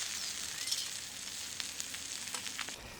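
A 2 lb tomahawk ribeye steak sizzles on a hot rock over an outdoor cooking fire, giving a steady, fairly quiet hiss with scattered small pops and crackles throughout.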